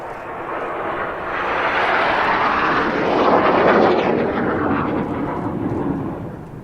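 Jet aircraft flying in formation pass overhead as a broad, roaring rumble that swells to a peak midway and then slowly fades, heard alone with no speech.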